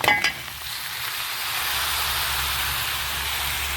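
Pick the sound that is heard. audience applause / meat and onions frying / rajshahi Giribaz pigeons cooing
meat and onions frying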